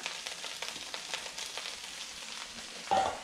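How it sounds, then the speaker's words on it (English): Calamari squid sizzles in a hot pan, a steady crackling fry with faint stirring clicks, quiet and close, with no voices. "I'm going to now go in with the calamari"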